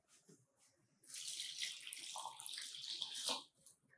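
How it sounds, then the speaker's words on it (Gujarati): Flattened rice (poha) is rinsed in a bowl of water for batata poha, a steady close splashing and trickling like running water that lasts about two and a half seconds, faint at the start and end. "હવે પૌવાને સરસ રીતે ધોઈ લેવાના છે"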